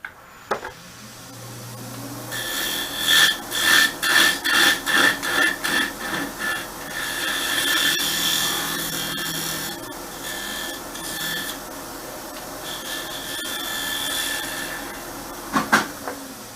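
A wood lathe spins while a tenon cutting tool cuts a recess into a turned piece. Rhythmic cutting pulses run through the first half, followed by a steadier scraping whir over the motor hum, ending in a couple of sharp knocks.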